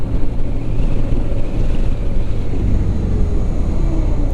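A BMW R12 GS motorcycle engine drones steadily at higher revs while riding, a loud, continuous low rumble with wind noise and no voices.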